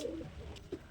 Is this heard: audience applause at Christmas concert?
no